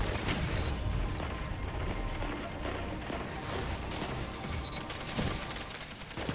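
Grenade tossed and blowing up in a Destiny-style first-person shooter, heard inside a dense, loud mix of continuous gunfire and battle noise with a heavy low rumble throughout.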